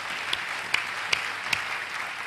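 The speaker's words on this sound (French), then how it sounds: "Merci beaucoup, nous l'applaudissons très fort." Audience at a gathering claps steadily, a continuous patter of many hands with a few sharper individual claps standing out near the listener.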